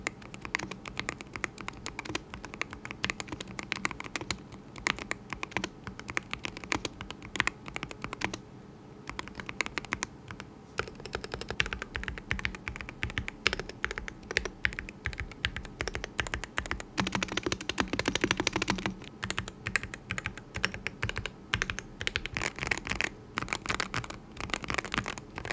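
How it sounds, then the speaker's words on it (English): Rapid typing on a Chilkey ND65 CS Hall Effect budget keyboard, a dense, steady patter of close keystrokes with occasional heavier thocks, heard alone without voices. "Now here's a quick sound test to give you a better idea of how this keyboard sounds."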